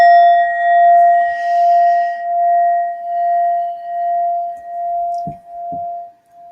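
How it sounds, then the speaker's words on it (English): An Indian brass singing bowl struck once during a meditation, a pure sustained ring with a slow wavering pulse that hums on for several seconds, then a couple of soft knocks near the end. "I use this beautiful Indian brass bowl during the meditation"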